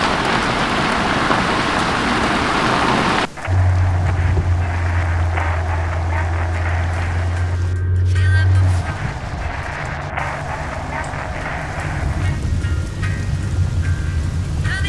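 Rain pouring into a car in the horror video game Scare 2, a dense hiss that fills the scene, joined by a low steady engine-like hum partway through, with background game ambience continuing.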